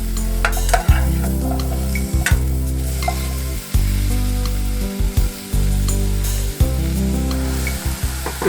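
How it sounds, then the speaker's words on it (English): Cut mushrooms frying in a pan, a loud continuous sizzle close up, broken by repeated scraping knocks and clatters as they are stirred around now and then. "Add the cut up mushrooms. Let them fry for about 5 minutes,"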